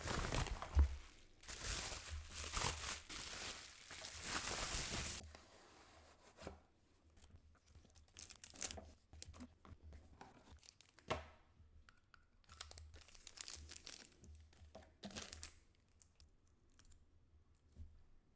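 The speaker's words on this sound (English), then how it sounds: "I am unboxing a special Sailor fountain pen." Packaging of a Sailor 1911 Large fountain pen is torn, crinkled and clicked open close by, a loud burst of paper and plastic handling followed by quieter intermittent taps and rustles.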